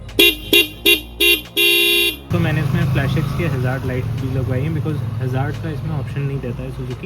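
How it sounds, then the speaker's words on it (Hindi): Stacked horns on a Suzuki V-Strom 250 motorcycle, fitted with twin aftermarket horns, blare in five short loud bursts, the last one held longer. A steady rumble follows while someone talks over it. "हॉर्न की आवाज़ आप सुन सकते हो।"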